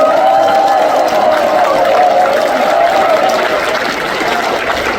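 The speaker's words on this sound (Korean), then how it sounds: "우리 양승희 수원회장 이제 박수 한번 쳐보겠습니다" Dense clapping from a crowd at a South Korean election campaign launch rally for a National Assembly candidate in Gangbuk, a sustained, loud wash of applause that holds steady and tapers slightly toward the end.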